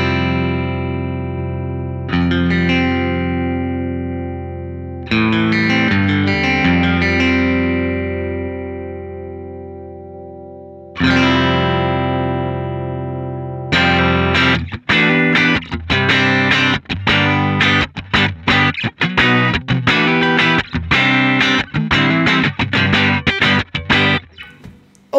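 Electric guitar plays through a Two Notes Torpedo preamp. Several ringing chords decay slowly at first, then a fast, driving, choppy rhythm part follows. The playing is loud and close throughout with no talking.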